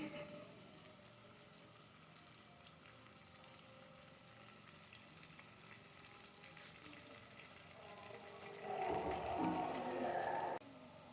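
Chopped medium-sized onion frying in a pan while being browned lightly for a lauki chana achari dal, a steady low sizzle that grows louder and denser near the end, with no talking.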